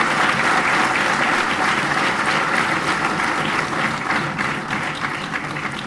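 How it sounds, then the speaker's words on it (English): An audience claps in a hall, a sustained wave of dense applause that stays full and then slowly softens toward the end. "Let's give them a round of applause"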